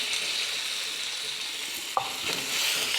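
Garlic sizzling and browning in a very hot pan, a steady bright hiss of frying with a faint stir or utensil clink partway through.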